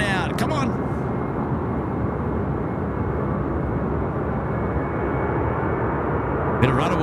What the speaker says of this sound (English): Let's listen to these sounds of the 767 ripping it out.